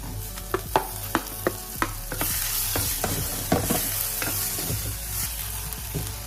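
Tomatoes dropped into hot oil in a pan, a loud close sizzle that swells midway, punctuated by a series of sharp spoon taps and scrapes from stirring.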